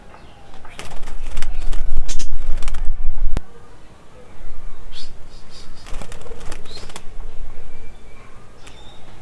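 Pet budgerigars released together into the open sky burst into flight with a loud, close flurry of wing flaps, followed by quieter fluttering bursts and a few faint chirps.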